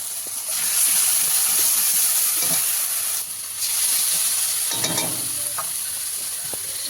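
Ground turmeric, chilli, coriander and cumin sizzling in a pan for egg curry, a loud steady hiss with brief stirring scrapes, close and continuous without talk.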